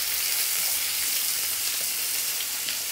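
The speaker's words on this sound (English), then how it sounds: "while the masala is cooking" Masala with chopped tomatoes and spices cooks over a very low gas flame for a Bengali fish head curry, giving a steady, even hiss of sizzling and frying with no talk over it.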